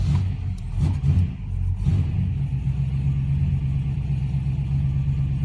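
An American muscle car engine cranks and catches at the start, then settles into a loud, close, rumbling idle with a few early blips of revving and a steady low throb.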